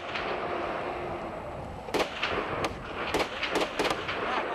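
Scattered gunfire in fighting between Iranian forces and smugglers along the Afghan border: several sharp distant cracks, some in quick pairs, over a steady rushing background with no talk.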